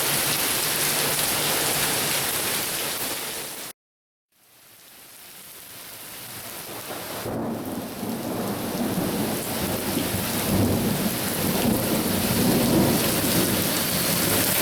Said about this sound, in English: When they say raining sideways, this is what they mean.